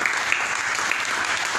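Church congregation clapping in praise, a dense, steady wash of applause with a few sharper individual claps standing out.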